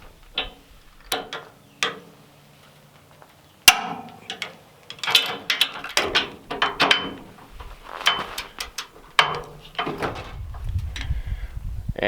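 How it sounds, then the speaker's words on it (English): Torque wrench on 2013 Chevy Silverado tow hitch bolts in a small home shop, giving a series of sharp, separate mechanical clicks and ratcheting sounds, close and fairly loud, with irregular spacing and scattered clatter between them. "That little click right at the end is when it hits the torque rating."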